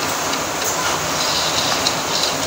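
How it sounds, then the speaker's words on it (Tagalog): Heavy rain during a storm in Cavite, a loud, dense, unbroken hiss and roar of downpour close by, steady from start to finish. "Ang lakas ng ulan."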